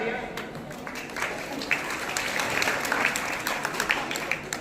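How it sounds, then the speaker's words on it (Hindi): An audience claps at a student organisation's award ceremony in a hall in Gola Gokarannath, Lakhimpur Kheri, with steady, dense applause and scattered sharper claps rising and falling over several seconds. "एक बार जोरदार तालियां"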